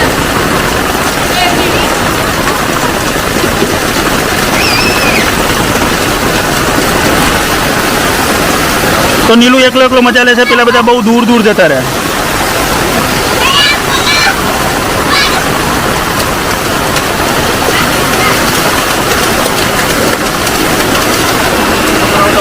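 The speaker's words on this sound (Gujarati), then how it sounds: "અવાજ બહુ આવે છે વરસાદનો" Heavy rain pouring down outdoors, a loud steady broadband wash throughout, with a voice talking over it for a few seconds in the middle.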